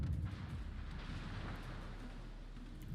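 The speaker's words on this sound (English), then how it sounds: "Here's some shells coming in from the Ruprecht" Naval shells land in World of Warships as a sustained, heavy low rumble of distant impacts and booms, with a broad roar that stays fairly even throughout and no one talking.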